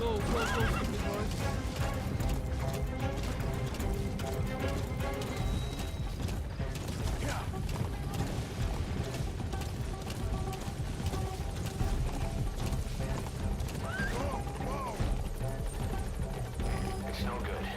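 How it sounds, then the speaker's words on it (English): Horse in the Metal Gear video game neighing and whinnying over steady galloping clip-clop, with mechanical clatter and a helicopter-like drone in a dense, continuous game mix. "Go, go, go, big horse."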